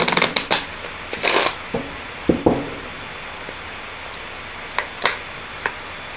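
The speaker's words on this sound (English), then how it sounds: "pull 3 cards on this, just to see if I can get any more information" Tarot cards being shuffled and drawn, with a burst of riffling followed by scattered crisp card snaps and slaps spaced out over several seconds, close and fairly loud with no talking.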